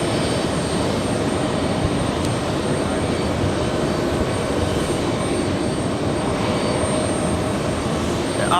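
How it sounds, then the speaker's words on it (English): A JetBlue Airbus A320 arriving at JFK from Jamaica makes a steady, broadband jet-engine roar that holds constant throughout, loud and continuous with no pause. "Next arrival, we have JetBlue flying in from Jamaica. JetBlue 380, a 3-hour flight. Little Airbus A320."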